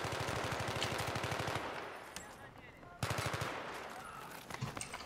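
Rapid automatic gunfire bursts in a first-person shooter video game match ring out in two loud rattling volleys separated by a brief lull, with faint scattered shots and quiet player chatter in the background.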